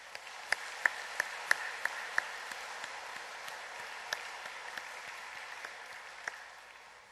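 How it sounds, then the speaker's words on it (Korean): A church congregation during a Parents' Sunday service at Cheonan Holiness Church applauds, faint and distant, with a few sharp individual claps standing out early before the sound slowly fades. "우리를 낳아주시고 길러주신 은혜에 감사하는 마음으로 박수를 올려드리겠습니다."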